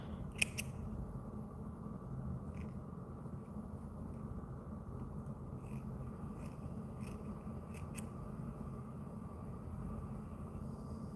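Small scissors trimming fly tying material on a panfish fly, a few sharp, quiet snips scattered over a steady low hum of room noise.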